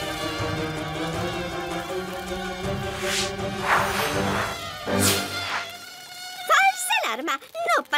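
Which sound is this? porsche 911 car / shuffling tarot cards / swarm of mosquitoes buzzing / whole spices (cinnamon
swarm of mosquitoes buzzing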